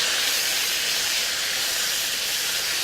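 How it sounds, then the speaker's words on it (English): Tomatoes sizzle and hiss steadily while being stir-fried with ground chicken, a loud continuous close frying sound with no talking over it. "You just go ahead and stir fry the tomatoes until they kind of halfway done"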